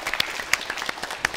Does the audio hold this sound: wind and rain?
no